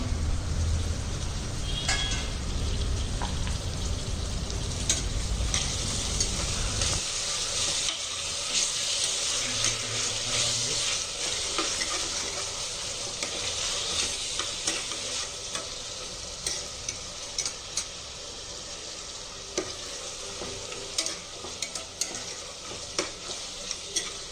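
Peas and tomatoes fry in oil with a continuous close sizzle, a low rumble beneath during the first few seconds, then occasional light ticks and scrapes of stirring with no speech.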